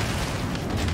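A bomb explodes in the video game Horizon Zero Dawn: The Frozen Wilds, a dense, sustained low rumbling boom that fills the full second at moderate loudness with no voices.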